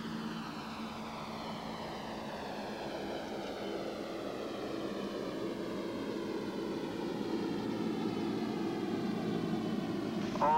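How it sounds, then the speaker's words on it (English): Simulated jet airliner in flight just before a crash, a steady loud engine roar with a rising whine that holds throughout, alone with no talk. "Is a simulation of the flight of the jet"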